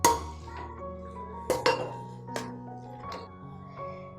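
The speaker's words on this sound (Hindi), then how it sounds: "सब्जी को चला लें।" Metal spoon clinking and scraping against a pot while methi palak sabzi with urad dal is stirred after pressure cooking, a few sharp clinks spaced over several seconds with low background hum.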